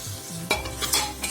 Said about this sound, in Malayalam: നല്ലതുപോലെ ഇളക്കി കൊടുക്കാം.